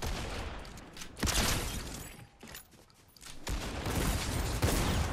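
Rapid bursts of video-game gunfire aimed at teammates crackle loud and close in dense volleys. A brief quieter lull sits in the middle before heavy shooting resumes, with no speech over it.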